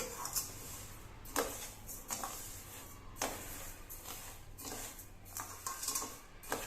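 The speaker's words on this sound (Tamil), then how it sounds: "கை விடாமல் நல்லா கிண்டி விட்டுக்கிட்டே இருக்கணுங்க" Rice roasts and puffs in a pan for pori kozhukattai while being stirred constantly, giving quiet, intermittent scraping and rattling strokes against the pan over a low background hiss.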